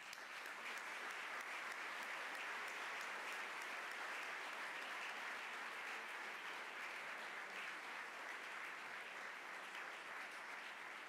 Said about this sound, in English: please join me with a big round of applause to our honoree